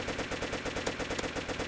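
A light machine gun in Roblox fires sustained rapid automatic bursts, a steady quick rattle of shots at moderate level with no talk.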